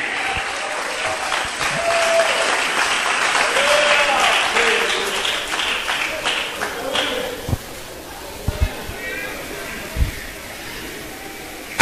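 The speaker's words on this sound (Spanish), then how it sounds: "Dale un aplauso a Dios que Él está aquí en esta noche." Church congregation applauding at a night service, a sustained broadband clapping that swells, then thins out into a few separate louder claps toward the end, with voices mixed in.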